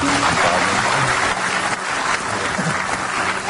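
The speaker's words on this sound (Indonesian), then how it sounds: "Kita berikan tepuk tangan dulu untuk Pak Fadli." Studio audience applauding Pak Fadli, a former scavenger, on a television talk show, a dense steady wash of clapping filling the whole stretch with faint voices mixed in.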